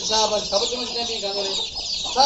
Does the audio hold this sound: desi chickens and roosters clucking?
yes